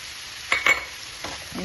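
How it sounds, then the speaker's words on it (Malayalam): Ginger drops into onions frying in oil, a soft sizzle with a couple of quick stirring scrapes, close and fairly quiet. "സബോള ഒരുമാതിരി വഴന്ന് കഴിയുമ്പോൾ അതിൻ്റെ അകത്തോട്ട് നമുക്ക് ഇഞ്ചി ഇട്ട് കൊടുക്കാം"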